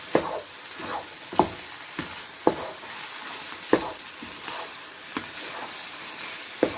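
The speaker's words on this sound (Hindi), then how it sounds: "अब हम इसमें ऑयल डाल के तकरीबन ये 1 कप ऑयल हमने डाला है। अब इसको हम इससे भूनेंगे" Grated carrots for gajar halwa frying in about a cup of oil, a steady loud sizzle broken by regular scraping stirs every second or so; no talking.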